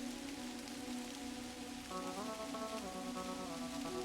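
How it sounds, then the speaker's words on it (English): Steady rain patters in the point-and-click adventure game Kathy Rain: Director's Cut, a continuous soft hiss that runs beneath layered music tones throughout. "It is raining."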